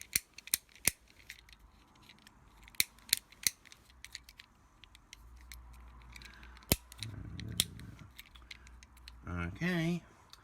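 Clicks and snaps from a handheld fidget gadget, a noisier alternative to a fidget cube: sharp, irregular clicks scattered throughout, a short rumbling handling noise in the middle, and a brief tonal whir at the end.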